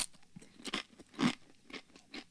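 Crunchy munching on food dressed with Tabasco green pepper sauce, a series of close, distinct bites and chews in an uneven rhythm, with one louder crunch in the middle.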